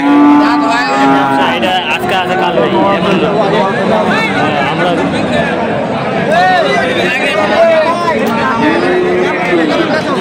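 At Khochabari cattle market in Thakurgaon, a young Friesian cross heifer calf moos in several drawn-out calls that rise over steady crowd chatter and nearby talking.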